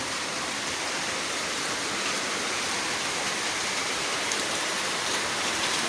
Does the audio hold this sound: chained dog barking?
no